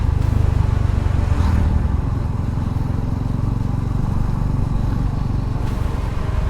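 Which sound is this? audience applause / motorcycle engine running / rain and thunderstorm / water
motorcycle engine running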